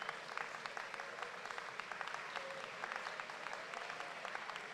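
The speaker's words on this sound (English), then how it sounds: "Give your parents, family members, folks who believed in you, a round of applause." Graduation crowd giving a round of applause for parents and family, sustained clapping from a large gathering with scattered sharper claps and faint background murmur.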